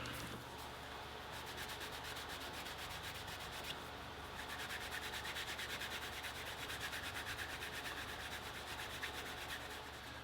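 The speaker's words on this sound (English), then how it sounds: "all I have to do is a little bit of sanding and burnishing on this single side" The edge of a leather piece is sanded and burnished with a steady rubbing scrape that runs continuously at close range, fairly quiet and with no talking.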